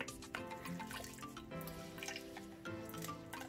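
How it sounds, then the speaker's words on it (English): Ripe elderberries are pushed through a metal strainer so their juice drips and trickles into a container below, a steady wet patter with small splashes running for a few seconds without any talking. "if you want to just use a strainer like this, you can push on the elderberries"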